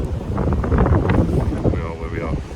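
Strong wind buffets the microphone in a steady low roar at Aldermaston Mill, with a voice talking underneath.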